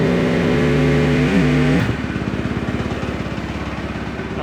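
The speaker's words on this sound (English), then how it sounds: "Try not to rev it because you don't want to rev a cold engine." A cold 2023 KTM SMR450 supermoto engine idles close up, first with a smoother, higher tone that drops after about two seconds into a lumpy, pulsing single-cylinder idle with a steady, regular beat.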